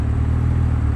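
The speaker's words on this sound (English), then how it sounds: "that exhaust sounds good" BMW G82 M4 with an AWE exhaust idling in a loud, steady, low rumble that holds even throughout, close up with no voices.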